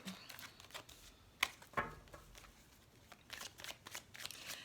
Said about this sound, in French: j'entends qu'il faut que je remélange, donc je vais remélanger